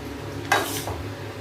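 A spoon stirring bread upma with onion, green chilli and ginger in a pan, one quick scraping stir that sizzles briefly over quiet frying, close by and fairly soft.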